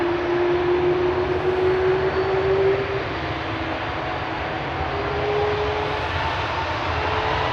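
A Delta Airlines airliner departing Amsterdam Schiphol Airport, with a steady, loud jet engine roar and a faint whining tone that drifts in pitch, heard alone without speech.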